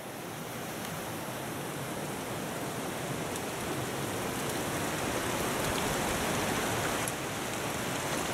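Light rain falls steadily at a quiet Japanese mountain temple of Shugendo practice, giving a soft, even hiss with no voices heard.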